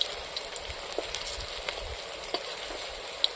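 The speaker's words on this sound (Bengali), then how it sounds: "দেখুন বড়াগুলো কত সুন্দর তেলের মধ্যে ফুলি ফুলি উঠছে একদম।" Green banana fritters bubble and sizzle in hot oil, a steady, close frying hiss with small crackles and pops scattered throughout, no voices.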